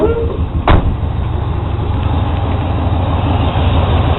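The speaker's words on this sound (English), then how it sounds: "So now the truck's running." A truck engine idles steadily after being cranked over, a continuous low rumble with a brief thump near the start, heard up close while the dashboard fan runs on high.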